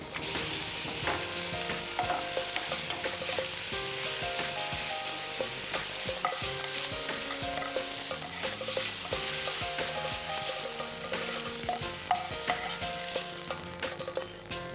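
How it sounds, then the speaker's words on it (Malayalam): Chopped cashew nuts fry in hot oil with a continuous, even sizzle that runs throughout, and tonal background music plays beneath it. "അതിനുശേഷം നുറുക്കി വെച്ച അണ്ടിപ്പരിപ്പ് മൂപ്പിക്കും."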